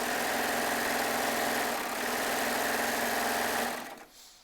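A Baby Lock serger sewing a long seam on quilting fabric, running steadily at high speed with a dense mechanical whir, close and loud, then stopping abruptly near the end.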